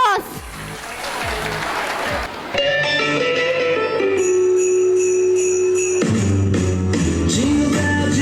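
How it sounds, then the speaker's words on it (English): A school audience claps loudly for LKG students about to perform a Christmas dance at an annual function, dense and close. A jingly Christmas pop song then starts and plays over the fading clapping. "So give them a huge round of applause."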